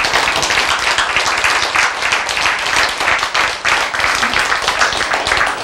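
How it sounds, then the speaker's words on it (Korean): A congregation claps steadily during a sermon, a dense, even wash of applause from a close audience that continues for several seconds without letting up. "박수."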